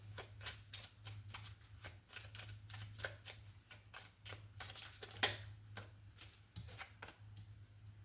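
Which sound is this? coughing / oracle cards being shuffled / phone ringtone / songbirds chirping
oracle cards being shuffled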